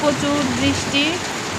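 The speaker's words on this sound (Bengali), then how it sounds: "প্রচুর পরিমাণে বৃষ্টি হচ্ছে।" Steady heavy rain hiss with a few brief tonal chirps and noises on top, close and fairly loud throughout, with water leaking into the house.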